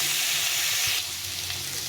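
Pointed gourd (potol) fries in hot oil with a loud, close, continuous sizzle that softens slightly about halfway through.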